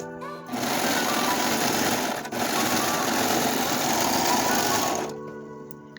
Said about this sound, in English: Now onto the serger.